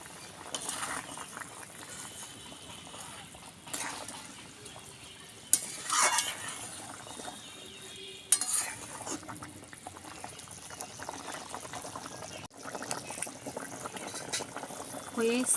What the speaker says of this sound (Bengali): টকবক করে ঝোলটা ফুটছে